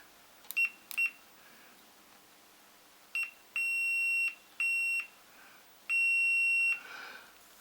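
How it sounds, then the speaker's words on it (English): A digital multimeter's continuity buzzer beeps in a quiet room: two short chirps, then a brief blip followed by three longer sustained tones of varying length. "I'm going to put it on buzzer."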